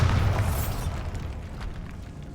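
A Bombarda blast spell in a video game set in a decaying catacomb, with a loud booming explosion at the start that fades into a rumbling roar.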